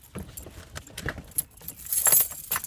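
Car keys jangle and click as a key is pulled from a stuck ignition and pushed back in, several close metallic rattles and taps in quick succession inside a quiet car.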